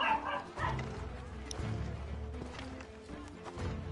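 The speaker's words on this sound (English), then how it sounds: "these damn dogs have just been getting so crazy" Dogs barking in Assassin's Creed 3, heard as faint, muffled yips and woofs scattered through a low, steady game ambience.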